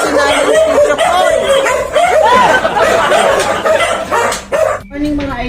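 A wooly puppy barks and yips repeatedly at close range in quick bursts before a bath, mixed with people talking and chuckling nearby.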